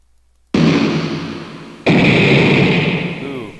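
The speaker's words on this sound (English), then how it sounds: "So I just need to find an explosion." Two loud synthetic explosion effects for an RPG Maker 2003 game go off back to back, each a sudden blast that rumbles and fades slowly, the second hitting just as the first dies down.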